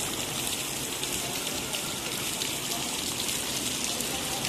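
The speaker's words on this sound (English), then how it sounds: "Oh, it's raining really hard." Heavy rain pours steadily in Giessen, Germany, a dense, loud roar of water with constant hiss and no pauses.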